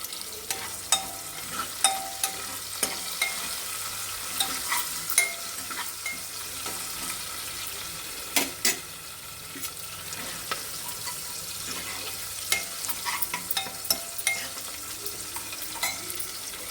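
Curry leaves, chillies and onion fry in hot oil in a pan for tomato charu, a soft continuous sizzle broken by repeated sharp clinks and stirring scrapes of a utensil, with faint running water in the background.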